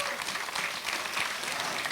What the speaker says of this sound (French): Bonne main d'applaudissements, s'il vous plaît, mesdames et messieurs